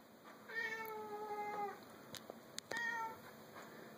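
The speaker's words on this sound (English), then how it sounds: "That's my cat, Harley." A cat meows repeatedly indoors, several drawn-out, fairly faint calls with short pauses between them, over a quiet background with a few small clicks.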